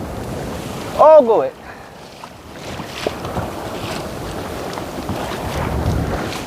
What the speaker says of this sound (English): the waves coming off the rocks